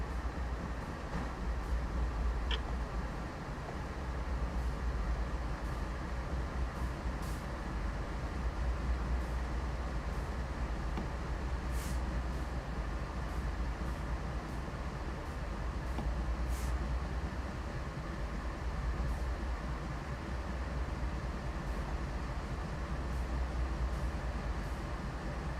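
A loaded coal train in the Train Sim World 3 railway simulator runs steadily with a deep, continuous rumble and wheel noise. Faint clicks and ticks sound over the top for the whole stretch.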